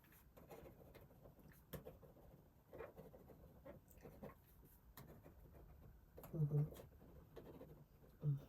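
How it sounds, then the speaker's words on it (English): Quiet pen strokes scratching across paper during an ASMR psychologist-style assessment, soft and close, with faint scribbling textures throughout and a few brief louder marks near the end. "I'm going to write."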